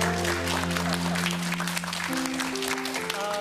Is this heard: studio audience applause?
yes